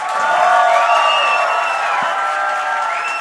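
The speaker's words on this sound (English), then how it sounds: "This is not the ACT 2024 applause at all." Audience at a music conversation event applauds and cheers loudly, with sustained whoops and shouts over the clapping.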